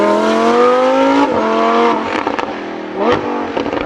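Novitec-tuned Lamborghini Huracan STO pulling away with its exhaust flap regulated, a loud, close engine note that rises in pitch, drops between gear changes and then revs again with crackling bursts.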